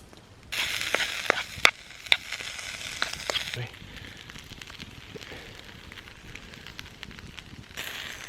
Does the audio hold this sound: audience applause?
no